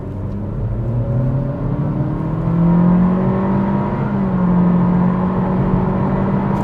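2025 Acura Integra A-Spec accelerating hard off the line in sport mode, heard from inside as a loud engine drone climbing in pitch through the revs, with a brief dip at a gear change, no talking.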